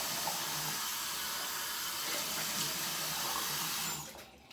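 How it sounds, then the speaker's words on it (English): A tap runs steadily as water splashes onto fingers at close range, a continuous hissing stream that cuts off sharply near the end, with no talk. "Splash some water on my fingers."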